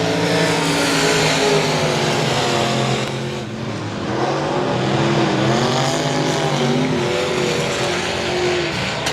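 Race cars roar down the front straightaway at I-37 Speedway on the last lap, a loud, continuous engine drone whose pitch rises and falls as the cars pass, with no pauses.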